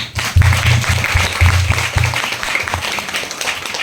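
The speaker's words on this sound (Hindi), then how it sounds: "उस वाहे गुरु के लिए जोरदार तालियां" Loud applause from an audience at a New Year's celebration speech event in India: dense, steady clapping that swells quickly and then gradually thins out.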